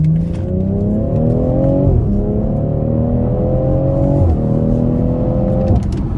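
A 2018 BMW X3 M40i with a 3.0-litre turbocharged inline six accelerates at full throttle from inside the cabin, its loud engine note climbing steadily through three gear changes, each marked by a brief drop in pitch before it rises again.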